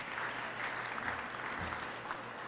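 Audience applause breaks out at the New York State Fair, a steady dense wash of clapping from a crowd of listeners that holds evenly for a couple of seconds without pause.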